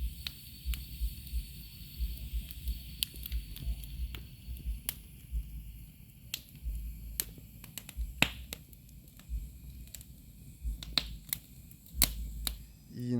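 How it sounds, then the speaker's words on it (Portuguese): Campfire at a country property at dusk, crackling with scattered sharp pops and snaps over a faint low rumble, close and fairly quiet, no voices. "Vou deixar umas cenas aí da fogueira pra vocês assistirem agora."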